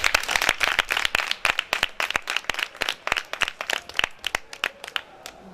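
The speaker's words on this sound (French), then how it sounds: "Applaudissez-moi ça." A small group of children claps at a Christmas gathering in Benin, producing uneven, sharp claps in loose bursts that rise and fall, fairly close and without talk.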